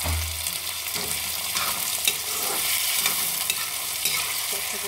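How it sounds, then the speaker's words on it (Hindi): Finely chopped tomatoes sizzle and fry in a pan for aloo ka bharta as they are stirred, a steady close hiss with soft scraping of the spoon. "अब हम इसमें फाइनली चॉप टोमेटोज ऐड करेंगे।"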